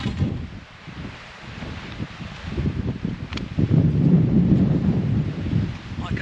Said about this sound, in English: the wind has swung round slightly and it is barrelling in here now